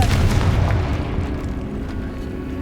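A Confringo blasting spell explodes in Hogwarts Legacy inside a decayed catacomb, a loud, close burst that settles into a deep, rumbling boom fading slowly over a couple of seconds.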